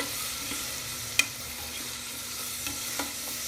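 Onion and coconut paste is stirred and sautéed in oil for a Maharashtrian brinjal-potato bhaji, with a steady soft sizzle broken by a few sharp spoon scrapes against the pan, no voices.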